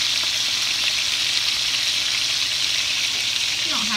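Bone-in chicken thighs sizzle steadily in a hot pan after being flipped, a loud, continuous, close frying crackle that runs unbroken throughout.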